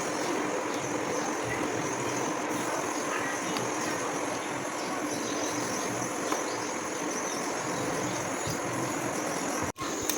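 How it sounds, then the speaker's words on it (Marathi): A mixer grinder grinds green chillies and puris for pani puri, whirring continuously at close range, a steady loud motor drone that cuts off abruptly near the end before briefly resuming. "आता आपण मिक्सरच्या सहाय्याने फिरूया"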